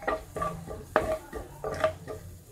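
Raw banana pieces being stirred with asafoetida and cumin in a cooking pan, giving a run of close scraping and clinking strokes of a spoon against the metal, with sharper knocks now and then.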